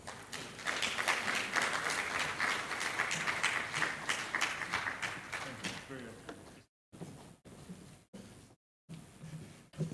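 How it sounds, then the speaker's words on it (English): Applause from a symposium audience on climate and extractive communities fills the room, broad and steady for several seconds, then breaks up into sparse claps separated by silent gaps. "Please, another round of applause."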